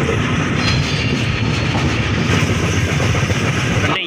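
An express train from Jaipur to Mumbai Central runs on the rails as it crosses a Mumbai local train, a loud, steady, close rumble with rattling clatter throughout and no voices.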